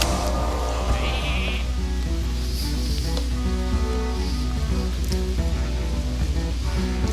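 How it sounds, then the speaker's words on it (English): A sheep bleats in the Hearthstone card game, with repeated bleats over a steady, loud background of game music and effects. "the sheep."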